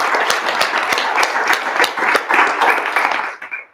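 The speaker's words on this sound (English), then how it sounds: "can we give a round of applause for everyone who helped organize it today?" Audience applause at a mental health summit for young leaders in Northern Michigan, loud dense clapping from a crowd that holds steady for about three seconds and then fades away.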